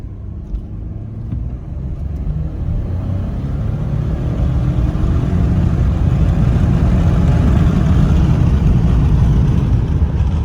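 Ford F150 EcoBoost pickup with a 10-speed transmission accelerating from inside the cab, a steady low engine drone that builds gradually in loudness without distinct gear changes.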